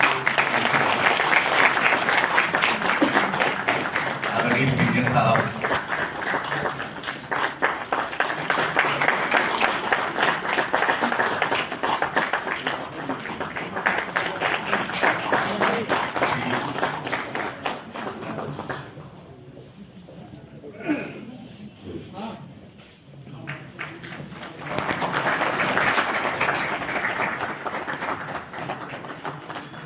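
Sustained audience applause at a retirement ceremony at the District Court in Ghazipur, loud and continuous for most of half a minute, briefly easing partway through while someone speaks a few words, then swelling again.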